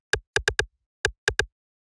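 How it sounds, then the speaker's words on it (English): Seven dry rim shot hits from a techno percussion track, crisp and woody, falling in a syncopated pattern of one, three, then after a pause three more, each short and alone with no other sound. "which starts with this rim shot, which sounds like this."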